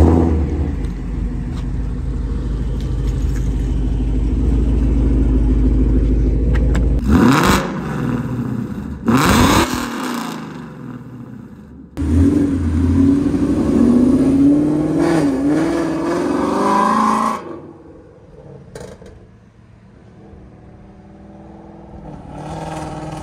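A 2018 Ford Mustang 5.0 V8 rumbles and revs as it pulls away, rising through loud throaty acceleration bursts with brief gaps between them, close and steady throughout.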